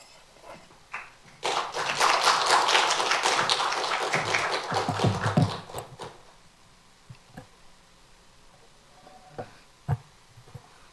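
A church audience at a Friday Bible academy applauds to welcome a missionary, a burst of dense clapping that swells, holds for about four seconds and fades, followed by scattered faint taps and quiet room sounds.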